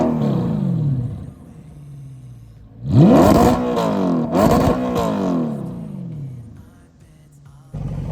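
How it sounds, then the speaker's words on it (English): Audi R8 fitted with a Quicksilver exhaust driving on the road, engine rising in two loud revving pulls around mid-clip with crackling harmonics, then settling into a steady lower drone before fading. "We're going to hear what this Quicksilver sounds like on the road."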